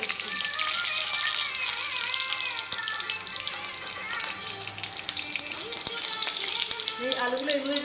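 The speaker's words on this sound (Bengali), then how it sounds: "এই আলুগুলো এগুলোকে ভেজে নিচ্ছি।" Potatoes frying in hot oil with asafoetida, a dried red chilli and a bay leaf for Bengali chole: a steady, dense sizzle runs throughout, with music playing underneath.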